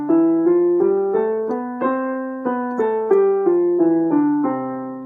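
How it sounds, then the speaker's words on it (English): A major scale played note by note going up and then back down, each pitch sustained and evenly spaced, a clear, close instrument tone played alone. "That's the major scale going up and down."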